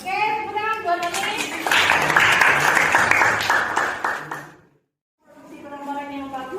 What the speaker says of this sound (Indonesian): Oke, tepuk tangan buat ini.